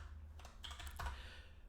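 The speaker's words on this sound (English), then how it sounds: "let's start typing" A handful of soft keystrokes on a computer keyboard while someone types code, faint and close, tapping in a quick uneven rhythm.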